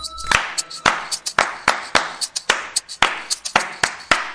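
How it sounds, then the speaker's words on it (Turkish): A group of children clapping along in time to a song, sharp rhythmic claps repeating steadily with a few uneven doubled hits, close and prominent with no talk. "herkes alkışlayacak"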